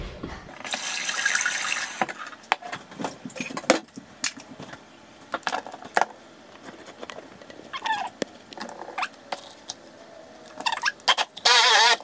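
Tap water runs into a sink in bursts over about twelve seconds, with clattering and splashing between the flows and a final strong gush at the end.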